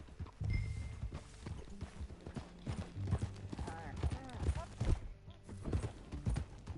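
Horse hooves clip-clop at a walking pace in Red Dead Redemption 2, steady rhythmic thuds close by, mixed with tack and gear noises while characters talk over them.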